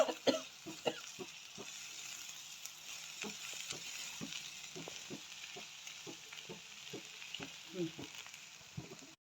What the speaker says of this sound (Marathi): कोथिंबीर घातली की व्यवस्थित मिक्स करून घेऊ.